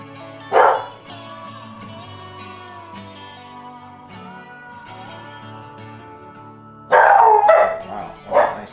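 Pet dogs bark in a few loud bursts, one near the start and a cluster toward the end, with quieter background sound between.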